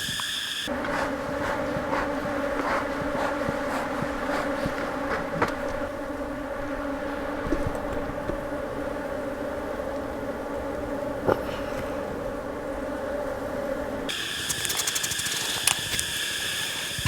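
Honey bees buzz steadily around an open, defensive hive holding a virgin queen, a dense continuous drone close by with individual bees zipping past now and then, and no talk over it.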